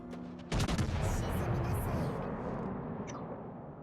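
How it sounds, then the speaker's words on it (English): Naval guns firing at a ship in World of Warships Legends, a sudden heavy salvo boom followed by a long rumbling decay, with a player talking faintly at the start. "Should be able to shoot Leander in the face."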